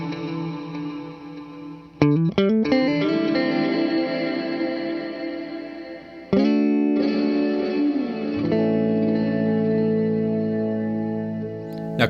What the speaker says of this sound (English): we increase the feedback some, we leave the reverb where it is, and we get this nice, pretty ambient tone